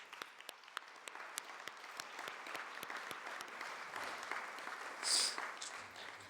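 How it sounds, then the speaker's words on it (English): An audience at a Nowruz gathering at New Zealand Parliament applauds steadily for several seconds, a dense even clatter of many hands heard from within the room. "So let's give her a round of applause"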